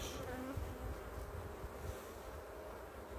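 Honeybees buzz around strong hives during swarming season, a dense, continuous hum close to the microphone with some wind rumble underneath.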